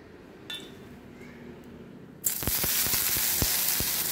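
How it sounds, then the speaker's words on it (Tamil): Ridge gourd peel sautéing in a little oil in a pan, a sudden loud sizzle starting partway through with sharp crackles and clinks, after a quiet stretch. "அதே கடையில் கொஞ்சோண்டு எண்ணெய் ஊற்றி சீ வச்சுருக்க நம்ம பீர்க்கங்காய் தோல் நம்ம சேர்த்து விடுவோம் கூட."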